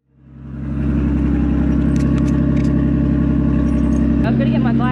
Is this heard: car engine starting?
yes